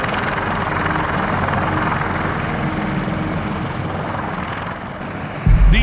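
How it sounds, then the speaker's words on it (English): A Sikorsky CH-53E Super Stallion heavy-lift military helicopter's loud, steady rotor and engine roar, close and continuous, with a sharp bump of noise at the very end. "the CH-53E Super Stallion, the heaviest helicopter in the United States military"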